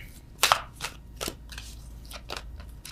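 A deck of tarot cards is shuffled by hand in several crisp, papery bursts, one louder riffle near the start and softer ones spaced after it, close up and quiet.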